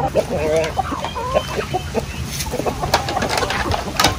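Caged chickens for delivery cluck and squawk in a continuous busy chorus, close and loud, with someone talking over them.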